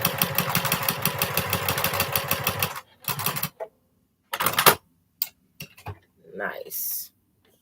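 Sewing machine stitching a sawtooth star quilt block, a steady rapid mechanical whir with rhythmic ticking that runs loud for about three seconds, then stops, followed by scattered handling clicks and a short rustle.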